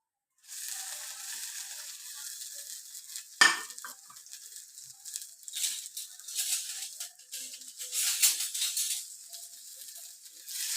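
Chopped shallots, garlic, ginger and curry leaves sauté in hot oil for a fish curry, a soft steady sizzle with an occasional spoon scrape against the pan, quiet and without voices.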